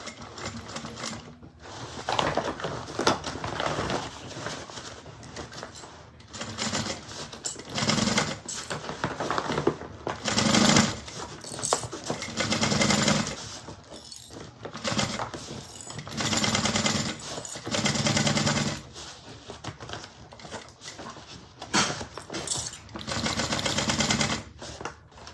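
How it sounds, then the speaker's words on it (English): Sewing machine stitching a bag around curves in short stop-start runs, close rhythmic clattering and ratcheting with brief pauses between bursts, no talking. "So just go a few stitches at a time around the curves."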